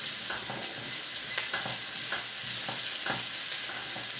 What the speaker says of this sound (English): So really all you're doing at the moment is just a quick stir fry